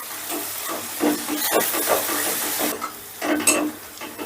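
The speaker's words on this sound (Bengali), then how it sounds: "এবার সমস্তটা একটু ভাজা ভাজা করে নেব।" Ginger, garlic, chilli and ground spices frying in a pan for chilli paneer, a dense hissing sizzle with bursts of crackle and stirring scrapes rising and falling throughout.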